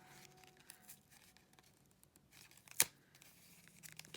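The rip tab on a Yu-Gi-Oh Speed Duel deck box is torn open with a quiet, close papery rustle, then a single sharp tearing rip, followed by faint crinkling.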